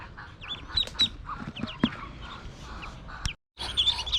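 Newly hatched ducklings peep in thin, high, scattered calls, some close and some farther off, against a low background. The peeping breaks off for a brief silent gap, then resumes.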